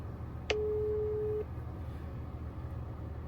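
A single phone ringback tone sounds once for about a second, a clear steady electronic beep over quiet street background noise.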